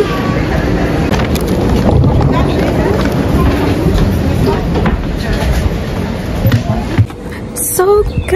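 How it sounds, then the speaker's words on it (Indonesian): A train runs along the tracks in a German village, a steady broad rumble with wind buffeting the microphone throughout and a brief squeal near the end. "Tuh keretanya jalan, tut."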